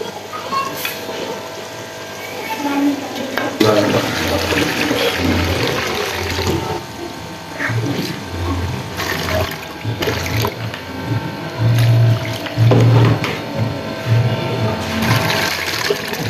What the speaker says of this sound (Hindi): हम इन तमाम दालों को और चावलों को अच्छे तरीके से वॉश कर लेते हैं।